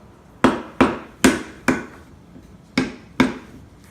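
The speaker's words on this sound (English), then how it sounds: "non-marring mallet" A rubber rawhide non-marring mallet taps wood six times in an uneven rhythm, each blow a close, sharp knock with a quick decay.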